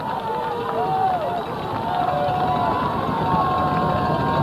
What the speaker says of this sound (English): stomping the feet on the new bleachers here at Arkwright, making some noise